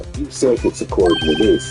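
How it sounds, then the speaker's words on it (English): Electronic phone ringtone in the Phoenix Wright courtroom video game, a thin repeating tone under close, continuous speech. "I heard a phone ring just now. One of those newfangled ringtones."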